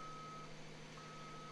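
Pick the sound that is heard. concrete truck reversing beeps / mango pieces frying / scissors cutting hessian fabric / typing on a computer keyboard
concrete truck reversing beeps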